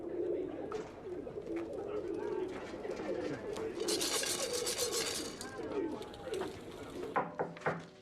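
Pigeons coo in a film studio, a low steady burble running throughout, with a burst of hiss and flapping-like rustle midway and a few sharp knocks near the end; voices speak faintly over it.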